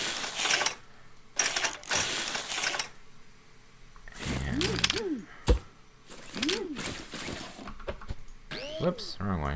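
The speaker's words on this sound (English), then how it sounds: "And let's weld these together." Buzzing mechanical bursts from the welding tool in the Scrap Mechanic video game join metal blocks together. Several bursts come in a row, loud and close, followed by lighter chirping game effects.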